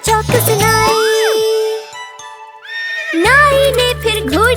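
A cartoon horse whinnies in a Hindi children's rhyme, a rising and falling neigh over bright jingling music, followed by a pause and then the tune returning with more whinny-like sweeps.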